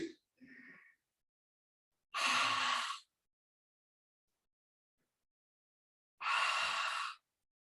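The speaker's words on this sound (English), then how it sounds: "Again, take a deep breath and exhale." Deep exhalations during a yoga class, two long breathy exhales separated by silence, close and clear, following a brief fragment of a voice.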